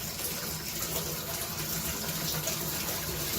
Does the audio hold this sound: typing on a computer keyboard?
no